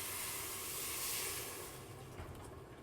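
Vegetable stock pouring into an Instant Pot over rice, a soft broad hiss and wash of liquid that swells and then fades into a quieter sizzle over a few seconds, with no talking.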